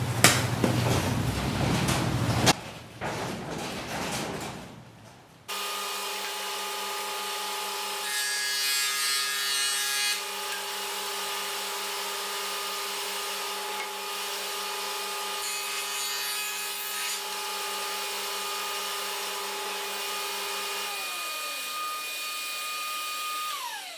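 A Ryobi vacuum run as a dust extractor for woodworking hums steadily with a whining tone after a burst of louder machine noise at the start, its pitch shifting near the end as the load changes.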